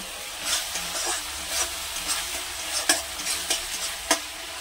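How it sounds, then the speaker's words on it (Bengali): Pieces of fried fish are added to a cooked onion masala in a pan for a prawn and fish curry, giving a steady sizzle with repeated scraping stir strokes and a few sharper clinks, close and fairly loud. "এবার আমি এই ভাজা মাছটা দিয়ে দেব"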